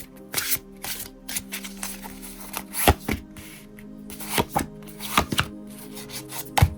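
Tarot cards are shuffled by hand in irregular bursts of riffling and slapping, close up, with scattered soft knocks between shuffles.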